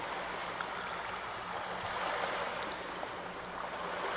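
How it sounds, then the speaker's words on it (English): Watery underwater ambience in a flooded tunnel in the Call of Cthulhu video game: a steady, noisy rushing and bubbling wash that stays fairly constant and fills the whole stretch, with no voices. "The water effect is so noisy."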